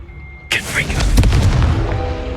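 Confringo blasting curse going off in Hogwarts Legacy, a sharp magical blast that erupts into a loud, rumbling explosion with crackling debris, followed by a sustained roar that fades slowly.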